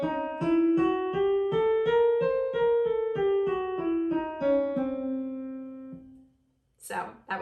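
A single voice sings an octatonic scale that begins with a semitone, sustained connected notes stepping upward and back down for about six seconds, followed by a brief breathy noise.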